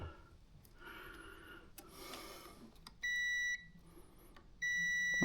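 Two steady electronic beeps from a multimeter on continuity test, probing a bare metal ground bolt during a Polaris Sportsman ATV winch wiring install; each tone lasts about half a second, clear and close against faint handling noise.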